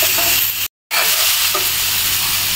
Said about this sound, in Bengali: এঁচড়টা আমি 4-5 মিনিটের মতো কষিয়ে নিয়েছি, চুলার জালটা কম রেখে।